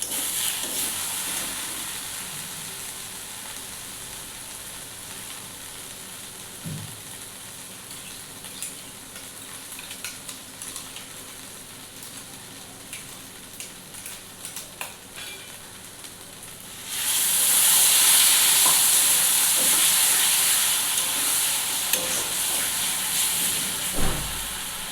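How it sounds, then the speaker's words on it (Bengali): Spice masala for chicken curry fries and gets stirred in a pan, giving a soft, steady crackle with scattered scrapes, then it jumps to a loud, bright sizzle and hiss for the last several seconds. "তারপর মশলাটাকে একটু সাঁতলাতে হবে।"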